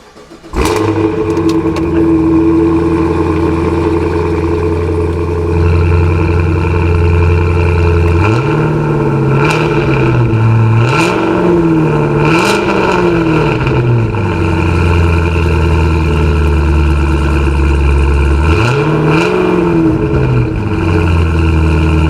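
A 668-horsepower car engine fires up, then settles into a loud, deep rumbling idle, with several rising and falling revs blipped in between, close and powerful throughout.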